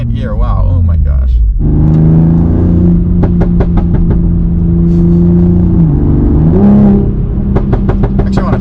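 A 500-horsepower Toyota Supra engine pulls hard under acceleration, a steady loud drone with a gear change partway through, while sharp exhaust pops crackle in quick bursts; someone talks over it.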